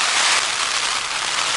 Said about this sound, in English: The rain is coming down once again.